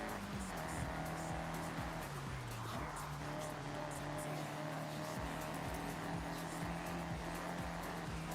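Car tires squealing and sliding in the racing game Forza Horizon 6, a steady engine drone with scraping skid noise running continuously at moderate level, a voice talking over it.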